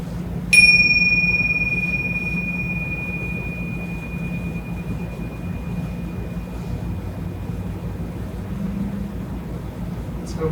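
A single meditation bell is struck once, its clear tone ringing and slowly fading over several seconds against a quiet, faintly rumbling background.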